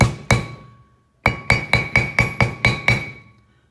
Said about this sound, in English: I probably could have found a smaller hammer